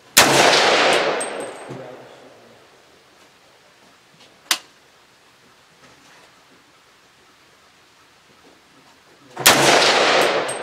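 Doublestar ARC 300 rifle fired at an outdoor range: two loud, sharp reports with long decaying echoes roughly nine seconds apart, plus a fainter crack between them.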